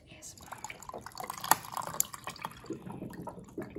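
Water pours into a cup holding ice cubes, with trickling, dripping and splashing sounds and a few sharp clinks close by, fairly quiet overall.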